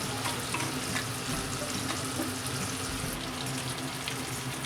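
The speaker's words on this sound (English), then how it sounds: "Fry the crabs until color changes slightly." Crabs fry in oil with turmeric powder for a crab curry, giving a steady, fairly faint crackling sizzle with occasional soft stirring sounds, continuous and close with no voices.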